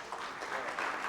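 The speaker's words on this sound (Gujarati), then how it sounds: "તમારી તાળીઓ ક્યાં છે ભાઈ?" An audience claps at an awards ceremony: a short burst of steady, even applause from a crowd.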